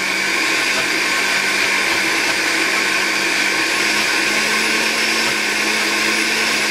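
Electric blender running continuously at high speed while pureeing a sauce for slow-cooked pork belly, a loud, steady whirring drone throughout with no talking.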